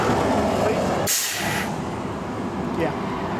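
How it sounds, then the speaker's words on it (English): Truck air brakes pressed and held during a commercial vehicle roadside inspection, with one sharp burst of air hiss lasting about half a second over a steady engine rumble. "Press your brakes and hold them."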